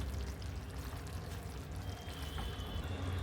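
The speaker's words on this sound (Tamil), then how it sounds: "இப்போ ஃப்ரெஷ் க்ரீம் சேர்த்துக்கிறேங்க." Fresh cream poured into a simmering hotel-style paneer gravy gives a soft, steady, faint pouring and splashing hiss that runs for about three seconds with no talking.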